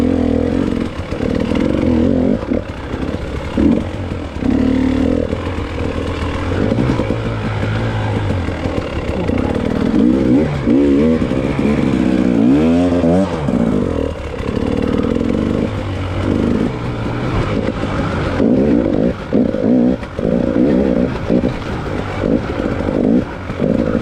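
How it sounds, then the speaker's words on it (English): Dirt bike engine labouring through a rough hare scramble section, loud and close, revving up and down unevenly with choppy throttle bursts and clattering over rough ground throughout, no talk. "You can tell by how the bike's working that this is a pretty rough section."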